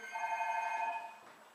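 A mobile phone ringtone chimes with bright, bell-like tones at a moderate distance, sustaining for about a second before fading out, with no voices over it.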